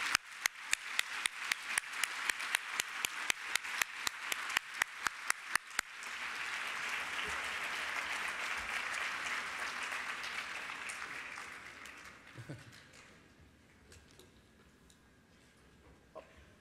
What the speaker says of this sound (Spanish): Un fuerte aplauso para el doctor David.